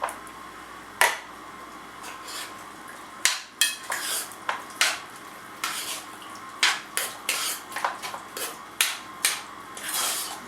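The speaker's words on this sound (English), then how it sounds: "A little stir here." A spoon stirs crushed tomatoes from a 28-ounce can in a pot, making a string of irregular clinks and scrapes against the metal, fairly soft and close.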